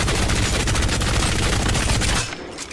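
Full-auto gunfire from a weapon in the Apex Legends video game, a loud rapid continuous burst of shots lasting about two seconds before cutting off abruptly, with no talk.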